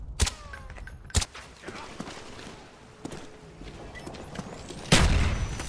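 A video game firefight brings a few sharp, loud blasts and shots from a claymore and a flash grenade, with the heaviest burst near the end and sparse clatter and footsteps between.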